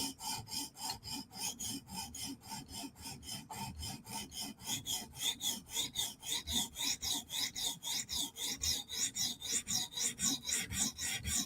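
A Chris Reeve Umnumzaan knife blade is stroked across a sharpening stone to raise a burr, giving steady rhythmic rasping strokes that grow quicker and more regular. Close and loud, with no voices.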